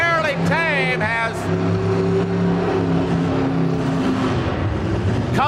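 King Kong monster truck at a monster truck show, engine roaring steadily as it races down the lane over a loud crowd, with a high whine rising and falling early on and an announcer talking over it.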